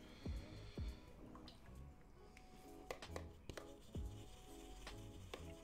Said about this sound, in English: I'm going to wash off this big brush